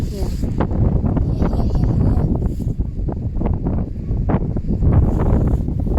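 Strong wind gusting loudly and steadily outdoors in a grassy field, with rain also falling, a constant buffeting roar close to the microphone throughout.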